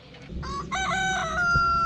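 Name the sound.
chickens clucking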